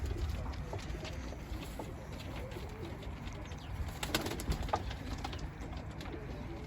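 Pigeons in a loft coo softly amid steady background noise, with low murmuring calls and occasional faint flutters or taps.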